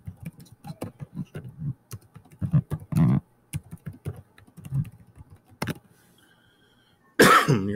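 Keys tapped on a computer keyboard while entering an assignment name in Google Classroom, a quick run of close, crisp clicks with short pauses and a louder burst near the end.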